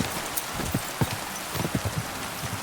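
Horse hooves in the video game Kingdom Come: Deliverance 2, a steady run of clip-clop hoofbeats under a hissing, rain-like wash of ambient noise.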